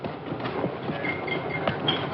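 A moving train rumbles on the rails with a steady rhythmic clickety-clack, heard from inside the carriage as continuous noise.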